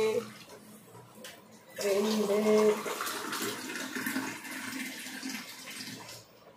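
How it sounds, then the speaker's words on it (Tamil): Water poured from a glass into a pot on a kitchen stove for rava kichadi, a short splashing gush that follows brief speech and then tapers into a softer trickle. "இந்த கிளாஸ்ல வந்து 1 டம்ளர் எடுத்திருக்கேன் அதனால 3 டம்ளர் தண்ணி வச்சுக்கிறேன்"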